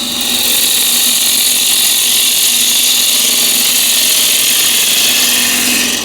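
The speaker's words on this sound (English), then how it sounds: "let's see this small half-inch gouge with the fingernail profile" A half-inch bowl gouge with a fingernail profile cuts a wooden bowl spinning on a lathe. It makes a loud, steady, continuous hiss and whoosh with no break and no talking.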